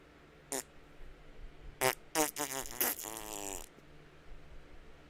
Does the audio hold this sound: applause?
no